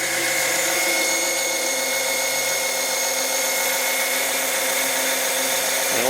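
A small 12-volt oil pump runs continuously while pumping oil into a bucket, a steady whirring motor drone with a fine buzzing whine that holds unchanged throughout.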